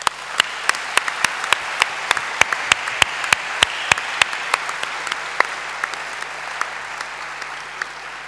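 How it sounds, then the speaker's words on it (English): Audience applause after an economics lecture, a steady bed of crowd clapping with sharp, distinct individual claps standing out close by at a regular rhythm, gradually thinning toward the end. "We should applaud."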